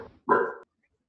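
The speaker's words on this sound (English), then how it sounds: "you can hear my dogs in the background." A single short dog bark sounds at moderate distance in a quiet indoor background, then silence follows.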